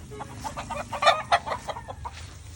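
Several chickens on a gamefarm cluck and squawk close by in a busy overlapping chatter, with a steady low background hum underneath.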